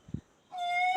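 A single drawn-out, tonal cat-like meow is mimicked up close, likely by a pet myna bird known for copying sounds. It is preceded by a soft thump in an otherwise quiet room.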